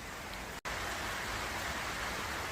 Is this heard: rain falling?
yes